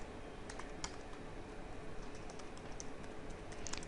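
Rapid, steady typing of C# code on a computer keyboard, light clicky keystrokes tapping continuously at close range with no voices.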